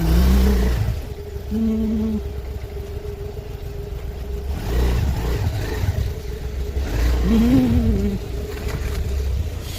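A car drives toward a forest, its engine a close, steady mid-pitched hum that rises and falls with a few revving surges as it moves along.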